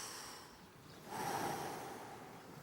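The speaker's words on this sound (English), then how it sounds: "Breathe out, everybody." A deep breath out, drawn as one broad, airy exhale that swells about a second in and slowly fades, fairly close over faint room noise with no talking.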